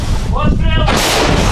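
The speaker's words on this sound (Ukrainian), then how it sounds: "Постріл." A single heavy artillery gun firing in combat booms loudly up close, followed by a roaring rush of noise that fills the short moment.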